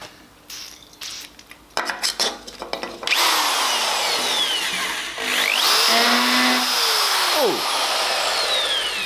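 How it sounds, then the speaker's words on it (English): A hammer drill bores through steel plate on a workbench for a sheet metal bender, starting with short stuttering bursts, then running in a loud, continuous grinding whine with metallic squeals. "Might pay to take the drill off hammer drill."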